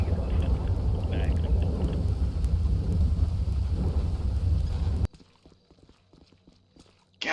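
Heavy rain pouring down outside, a loud steady hiss and patter that cuts off abruptly to near silence, followed by faint indoor movement.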